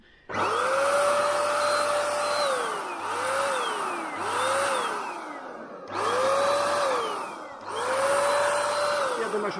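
A DNIPRO M SH-90 electric paint sprayer runs in point spray mode, its loud motor whine starting and stopping in several bursts with short pauses, each burst rising in pitch as it spins up.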